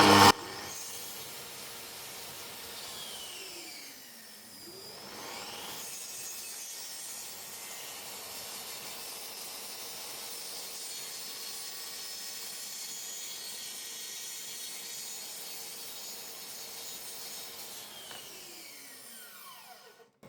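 A Makita SP6000J plunge saw whines steadily through wood at full material depth for a long stretch, its pitch dipping briefly near the start and again at the end as the cut finishes.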